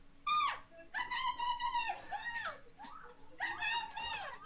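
A ceiling bird in a video game coos and warbles in several long, loud, tonal calls with rising and falling pitch, separated by brief gaps and heard close up with no talking.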